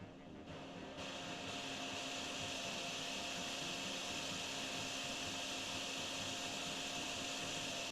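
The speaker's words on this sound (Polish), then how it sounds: "Odkurzaczem zrobił i pasuje." Vacuum cleaner running in the video game DrainSim, a steady loud broadband whir with a constant hum that holds evenly for the whole stretch, no talking over it.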